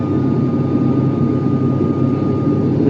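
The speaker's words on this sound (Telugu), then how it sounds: "ఫ్లైట్ని స్టెప్ బై స్టెప్ అంటే అంచెలుగా మనల్ని ఆకాశంలోకి తీసుకెళ్తాడు పైలట్, మేఘాల్లోకి." Airplane cabin noise during the climb on a flight from Tirupati to Hyderabad: a loud, steady, low engine roar with a constant whine, unbroken throughout and with no voices.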